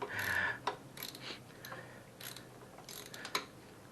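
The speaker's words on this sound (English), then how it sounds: "I got a 10mm socket. So I'm just going to go ahead and loosen it up." Ratcheting clicks from a 10mm socket ratchet loosening a bolt on the shifter of a Hawk DLX 250cc motorcycle, a few short close bursts of metallic clicking with pauses in between, no talking.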